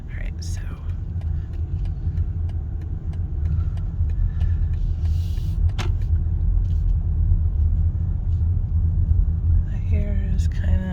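A car drives along a residential street, its low road rumble and engine noise steady and close throughout, with faint sounds of movement inside the car and no clear speech.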